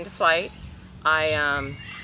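Parrots at a parrot sanctuary give two loud, harsh, tonal squawks in close succession, the second longer and wavering, heard near over a quiet room hum.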